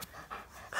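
An old dog pants close by in quick, soft breathy puffs, faint and brief.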